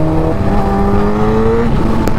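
A Suzuki GSX-R1000 superbike engine braking after the throttle is released, its loud tone sliding steadily downward as the revs fall, with road and wind rush underneath.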